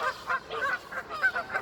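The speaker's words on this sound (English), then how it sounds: "you see the damn geese making noise?" Geese honk repeatedly in a loud, ragged chorus of overlapping calls, close by and steady across the short stretch, with no talking over them.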